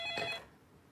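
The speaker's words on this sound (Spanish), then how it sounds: "Es el teléfono. Olvidé que aún teníamos un teléfono fijo." A landline telephone bell gives one short, bright ring that fades away quickly, heard alone with no talk.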